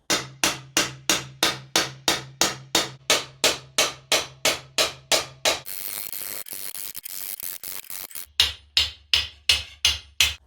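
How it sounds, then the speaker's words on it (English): Steady, evenly spaced blows of a round peening hammer ring on steel from an old propane tank, dished into a dome over a stump, pausing briefly for a scraping, grinding stretch before the rhythmic strikes resume. "using a dishing stump and a round peening hammer"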